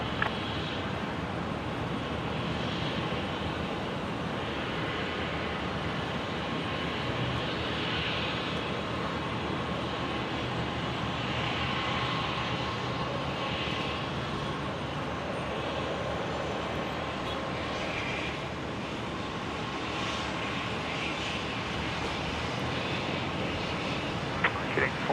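A plane on final approach at Brisbane International Airport, a steady broad engine roar that holds at a moderate level throughout, with faint outdoor wind noise beneath it.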